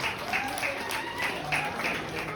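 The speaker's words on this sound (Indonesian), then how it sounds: "Tepuk tangan buat CIAS akustik kita" Audience clapping for an acoustic band at a neighborhood Halal Bihalal gathering, a short steady burst of hand claps at moderate distance with some crowd murmur underneath.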